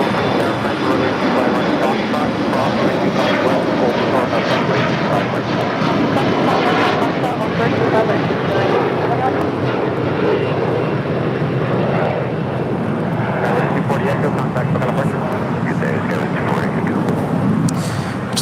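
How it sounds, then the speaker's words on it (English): An Avianca Airbus A320 in Star Alliance livery touches down at LAX on the south side, its broad engine roar sustained and fairly loud, shifting slightly as it rolls out, with a voice talking over it. "Just sent Avianca in the Star Alliance livery, coming in from Guatemala City. It's an A320 just touching down here on the south side."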